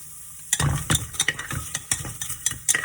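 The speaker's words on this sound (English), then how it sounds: "Just a little sauté, not too much." Cumin seeds and onion sautéing in a pan: a light sizzle under repeated quick scrapes and clacks of a spatula stirring, close and uneven in rhythm.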